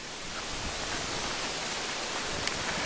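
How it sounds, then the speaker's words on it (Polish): Wind blows across a fishing lake, a broad steady rushing hiss with no distinct gusts, fairly loud and continuous, with no voices. "Wiatr wieje"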